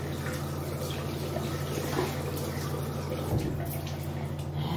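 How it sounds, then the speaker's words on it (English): Water runs steadily from a sink tap as a small cloth is rinsed under it, a continuous soft splashing close by with a brief deeper slosh near the end; no talking. "I'll rinse my little cloth out while I'm waiting for that."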